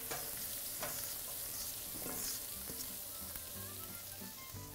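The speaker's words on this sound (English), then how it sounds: "we gotta saute now the cauliflower really good" Cauliflower sautéing in melted butter in a pan gives a steady close sizzle, with light scraping and stirring clicks throughout and no voices.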